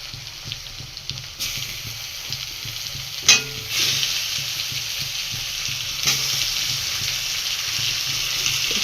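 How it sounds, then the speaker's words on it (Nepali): Chicken sizzles and fries in a pan while browning, a steady loud hiss close by, broken by brief scraping stirs and a louder burst of crackle where the spoon moves the pieces. "एकछिन यसलाई मजाले फ्राई हुन दिने"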